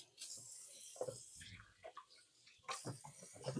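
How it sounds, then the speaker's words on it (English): Running tap water as hands are washed at a kitchen sink during cooking, a short splashing, uneven stream heard up close. "I'm going to wash my hands up."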